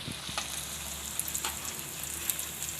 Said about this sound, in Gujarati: અને આ રીતે આપણે બધાય કટલેસ તળી લઈશું.